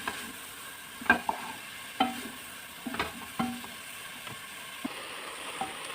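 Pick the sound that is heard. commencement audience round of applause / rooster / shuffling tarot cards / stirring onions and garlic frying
stirring onions and garlic frying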